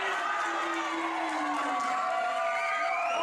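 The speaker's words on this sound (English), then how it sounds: "Oh, listen to that crowd." Wrestling crowd cheering at an NAW Pressure Point 2011 show, a steady wash of loud crowd noise with shouts and whistles rising over it throughout.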